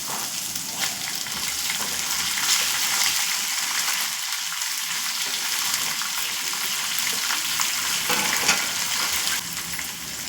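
Green and dried chillies frying in hot oil for pulihora, giving a close, continuous sizzle with scattered crackles and pops and occasional stirring scrapes, without any speech.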